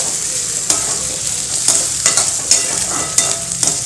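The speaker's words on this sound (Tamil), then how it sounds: "வெங்காயத்தை நல்லா எப்பவும் போல் வதக்கிக்கலாம்" Onions sizzle steadily in a pan while being sautéed for an anchovy dry fish gravy. Sharp scraping stirs break in at irregular intervals over the continuous frying hiss, close and fairly loud.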